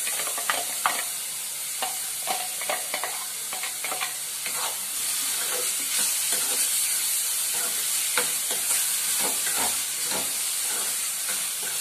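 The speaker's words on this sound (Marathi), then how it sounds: "आता हे कसं चांगलं आपल्याला अगदी तेल सुटेपर्यंत ना चांगलं परतून घ्यायचंय" Chopped tomatoes sauté in hot oil for an egg curry, giving a continuous close hiss and sizzle with frequent scraping and clinking of a spoon stirring the pan.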